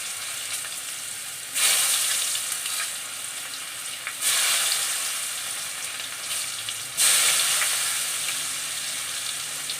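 Chopped onion and black cumin seeds hit hot oil left from frying tilapia, bursting into a loud sizzle three times as more goes in, each burst easing into a steady crackling fry with no voices.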